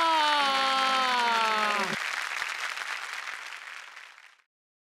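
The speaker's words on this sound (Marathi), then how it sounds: "जोरदार टाळ्या" Loud studio-audience applause for the Marathi comedy show Chala Hawa Yeu Dya. It follows a descending musical tone, swells for a couple of seconds and then tapers away.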